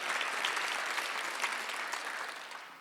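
A church congregation at a Sunday worship service applauds with steady, full clapping from many hands in a large room. The applause fades slightly toward the end.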